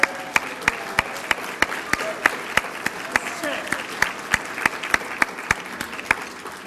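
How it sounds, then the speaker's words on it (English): A banquet crowd gives a round of applause, a broad wash of many hands clapping in a large hall, with one nearby clapper striking sharp, regular claps above the rest. "let us have your wife stand up and get a round of applause"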